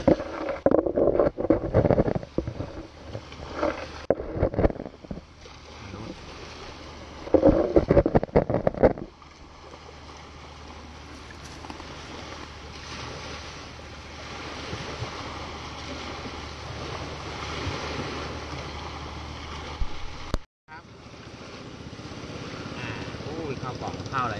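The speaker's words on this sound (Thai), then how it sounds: "เรือจะเริ่มเข้ามานะฮะ" A boat approaching across the sea off Ko Wiang island in Pathio, Chumphon, with its engine and water noise heard as steady rumble under strong wind buffeting the microphone, while someone talks over parts of it.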